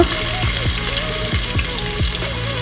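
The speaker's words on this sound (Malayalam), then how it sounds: "ഓയിലൊന്ന് ചെറുതായിട്ട് തിളച്ച് വരുമ്പോൾ അതിലേക്ക് നമ്മൾ ചതച്ച് വെച്ച ഇഞ്ചിയും വെളുത്തുള്ളിയും ചേർത്ത് കൊടുക്കുക" Crushed ginger and garlic fry in hot sunflower oil inside a pressure cooker for chicken gravy, a loud, dense, continuous sizzle close up, with a few faint stirring scrapes.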